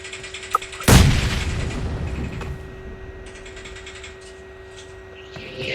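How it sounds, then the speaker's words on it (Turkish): A single sudden bomb blast in a video game bursts loud and close, then trails off into a long rumbling decay over a faint steady background tone, with no talk. "Bomba geldi"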